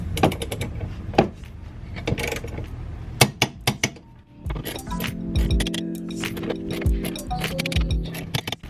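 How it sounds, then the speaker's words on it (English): A torque wrench tightens small nuts and bolts on a Ford Focus RS downpipe bracket, giving a series of metallic clicks and clinks, close up, followed by a steadier mechanical hum. "Switching over to the torque wrench, gonna do the small nuts and bolts to 35 Newton meters."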